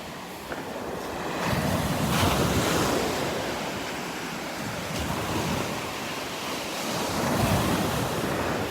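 Ocean waves roll onto Vanderbilt Beach under steady wind, a continuous broad wash of surf with swelling breakers around the middle and near the end, close by and fairly loud, with wind buffeting the microphone throughout.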